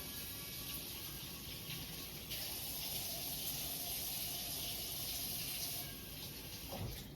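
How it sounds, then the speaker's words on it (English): Hot tap water runs from a faucet into a sink in a continuous hissing gush. The stream stays steady and close, with a slight shift partway through and no talking. "Okay, so that is just hot tap water."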